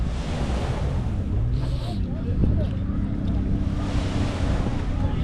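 Steady wind at a beach rushes and buffets the microphone throughout, with a faint wash of surf underneath and a voice speaking over it.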